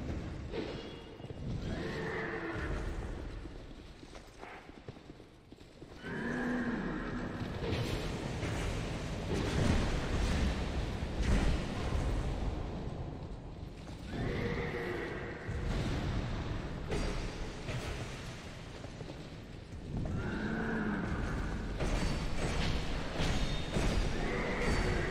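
A horse in the Dark Souls 2 video game neighs and whinnies repeatedly, loud and close, with heavy hoof stomps and clip-clop between the calls.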